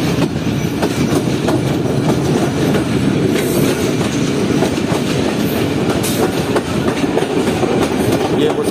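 A train rolls into a station platform at Raiwind Junction, a loud, continuous rumble with rhythmic clickety-clack of wheels over rail joints and occasional faint squeals, heard close and steady throughout.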